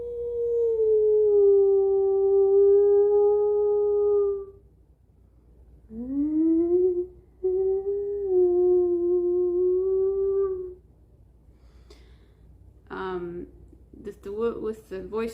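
A human voice imitates a wolf howl with two long, wavering sustained howls separated by a pause, followed by shorter breathy voiced sounds.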